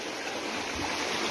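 A creek swollen with rainwater rushes steadily in a continuous broadband wash, close and moderately loud, with no voices.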